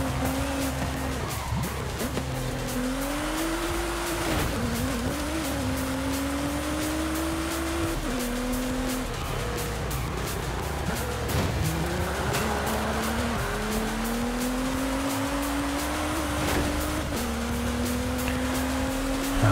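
A car in a Forza Horizon 5 race on winding roads, its engine droning continuously with rising and falling revs through the gear changes, plus occasional tire squeal on the bends, loud and sustained throughout.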